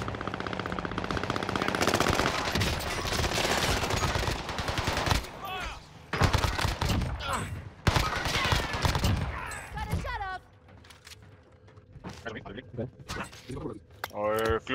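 Rapid automatic gunfire from the Call of Duty Warzone Caldera battle royale rattles loud and close in long sustained bursts, with players talking over it before the shooting thins into scattered shots.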